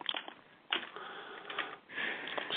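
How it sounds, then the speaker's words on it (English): Fingers typing search terms on a computer keyboard during a resume database search, a soft rapid patter of keystrokes in bursts, close by with no talking. "Excuse my typing."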